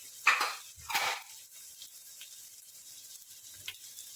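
Carrots and mixed vegetables hit a hot pan for mixed noodles, giving two loud bursts of hissing sizzle that fade into a soft, steady frying crackle with a faint clink near the end.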